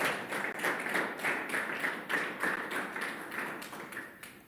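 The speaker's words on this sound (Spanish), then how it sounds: "Dale ese aplauso al Señor hoy." A church congregation clapping in praise during a Spanish-language intercession sermon, a steady rhythmic beat of many hands, fairly soft and even throughout with no voices over it.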